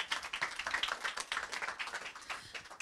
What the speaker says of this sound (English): Round of applause to our panel.